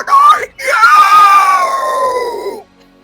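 A voice imitates a screeching bird creature, a sharp screech that slides into a garbled, throaty wail, sustained loudly for about two seconds before cutting off.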